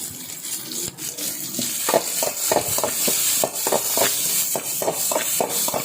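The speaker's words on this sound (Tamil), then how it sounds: "இஞ்சி பூண்டு பேஸ்ட்டு சேர்த்தோன்னே கொஞ்சம் அடி பிடிக்கிற மாதிரி இருக்கிறவங்க நல்லா கிளறி விட்டு சேர்க்கலாம்" Ginger garlic paste sautéing in a pan for veg biryani, with a steady broadband sizzle and repeated scraping strokes of a spoon stirring at an even rhythm, close and fairly loud throughout.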